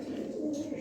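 A female pigeon cooing softly, a short, low, steady murmur that sounds faint and close.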